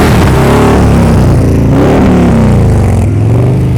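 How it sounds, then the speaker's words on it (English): A motorcycle engine runs close and loud during slow-speed riding practice in Tennessee, its revs rising and then dropping back, with a throaty, uneven rumble that dips noticeably near the end. "Keep hearing this RPM drop"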